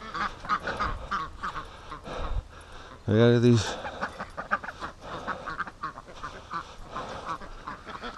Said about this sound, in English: Deke the ducks out.